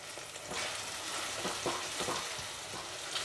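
Whisked sour yogurt being stirred into a frying katla fish rezala masala, a soft continuous sizzle with repeated scraping stirs at a moderate distance.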